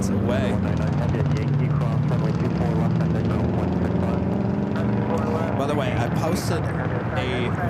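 An airliner at Los Angeles LAX airport produces a loud continuous jet engine roar with shifting tones, close and dominant, while someone talks over it.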